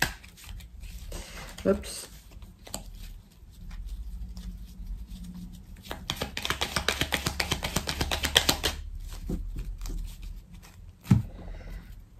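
Tarot cards being shuffled and drawn at close range, producing quiet papery riffles and a rapid flurry of card flicks, with a person talking softly over them.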